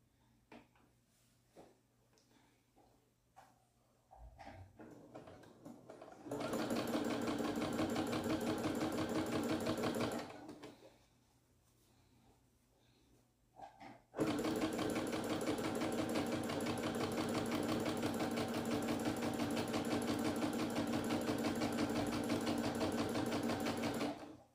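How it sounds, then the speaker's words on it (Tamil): A domestic sewing machine stitches fabric at speed, with a few light clicks and handling sounds before two long, loud, steady runs of rapid whirring mechanical chatter separated by a short pause. "நம்ம இனிமேல் ஃபாஸ்ட்டாக வச்சு ஸ்டிச் பண்ண வேண்டியதுதான்"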